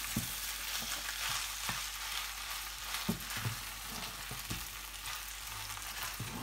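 Ven pongal of rice and dal is stirred in a pan, a soft continuous sizzle with faint scraping strokes of a spoon at a steady, unhurried pace, quiet and close.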